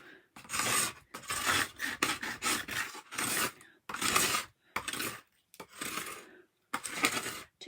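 A paint scraper rasps over a surface to remove paint in a string of rough, loud scraping strokes, each about a second long, separated by brief pauses, close by with no talking.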